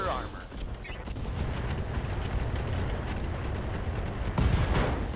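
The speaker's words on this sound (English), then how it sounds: "AC-5 ammo explosion." An AC-5 ammo explosion in the RogueTech video game: a rumbling, crackling blast that builds and holds, with a sharper burst near the end, heard at moderate level.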